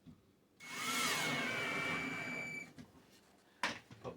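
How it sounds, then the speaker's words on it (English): A power drill drives a center screw into a wall stud while a shoe rack is mounted, whining loudly for about two seconds and then fading out, followed by a short rattle of tool handling. "Put the center screw in."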